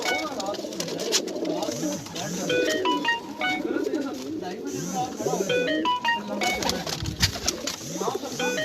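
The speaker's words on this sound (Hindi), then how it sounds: "ये इनके जो हैं गोले कबूतर हैं इनके पास।" Domestic Goley and white Lakka pigeons coo on a rooftop, giving repeated rhythmic coos up close along with some brief chirps while people talk nearby.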